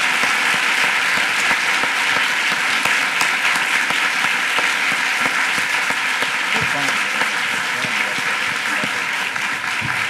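Steady, dense applause from a theatre audience welcoming Anna Deavere Smith to the stage for a solo reading, filling the whole stretch at an even level without breaks.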